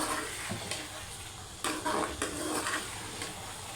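Chicken karahi with softened tomatoes cooks in oil in a pot, giving a steady low sizzle broken by a few sharp scraping stirs and spoon clinks against the metal. No one speaks.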